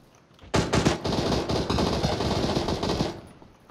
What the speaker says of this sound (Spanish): te lo has cargado con escopeta